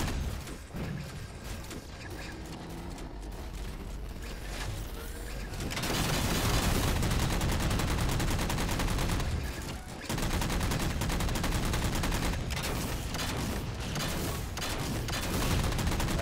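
Rapid gunfire in a Halo 4 multiplayer capture-the-flag match, sustained bursts and volleys that grow louder and denser partway through, continuing over busy game noise.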